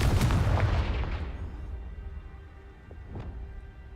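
A Confringo blasting spell explodes in Hogwarts Legacy, a heavy booming burst with crackling debris up front that rumbles away and decays, followed by a couple of fainter pops and thuds.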